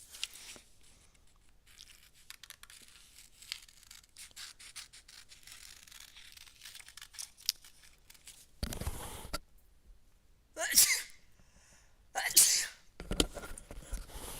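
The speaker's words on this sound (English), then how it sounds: "Little sneezes there." A few short, breathy sneezes burst out near the end, after a stretch of quiet rustling and soft sounds.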